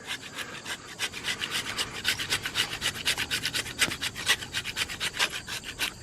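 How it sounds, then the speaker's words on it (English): A knife blade grinds wood into shavings in steady, rapid scraping strokes, close and fairly loud, with no talking. "Look how much wood we grind off."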